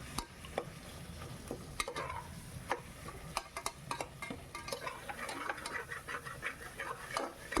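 Sliced tomatoes and chicken stirred in a pan, a spoon scraping and knocking the metal in steady irregular strokes over a low background sizzle, close and moderately loud, with no talking.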